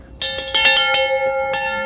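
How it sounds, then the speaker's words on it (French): The bell of the two lovers in Kobe rings clearly and loudly, struck several times in quick succession, its bright metallic tone sustaining and overlapping with no voices over it. "La cloche des deux amoureux."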